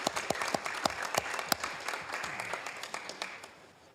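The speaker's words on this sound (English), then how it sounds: "Let's give Hart a big round of applause" A city council chamber audience claps for Hart, with sharp individual hand claps standing out over a warm round of applause that gradually tapers off.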